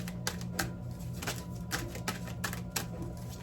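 Tarot cards being shuffled by hand, a run of soft crisp riffling snaps repeating every fraction of a second over a low steady hum, close and fairly quiet.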